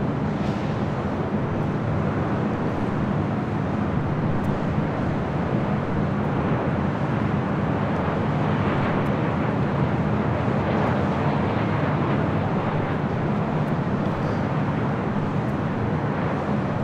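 Delta Airlines Boeing 737-800 arriving at LAX from Seattle, a steady broadband jet roar filling the whole stretch with wind rumble, constant and fairly loud with no clear rise or fade.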